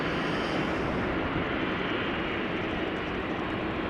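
Boeing 777 GE90 jet engines spool up at a busy airport, a steady broadband roar that holds constant throughout at moderate distance, with no voices.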